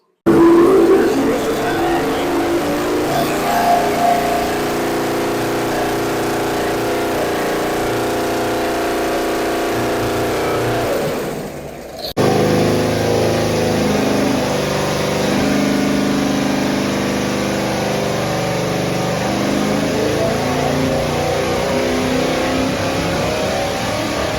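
A carbureted engine is revved hard on a dyno during carburetor testing. Two long sustained loud pulls are split by a brief drop in sound, with strong rising engine tones and no talking.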